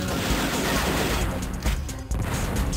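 Enemy robot blowing apart in the Descent video game during co-op play, a dense, loud burst of game noise with crackling and booming layers, sustained throughout with a brief dip then another surge.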